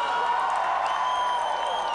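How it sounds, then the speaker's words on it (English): A wrestling arena crowd roars in a sustained ovation for the King, with dense applause and cheering that holds steady throughout. "listen to the crowd, the ovation for the King"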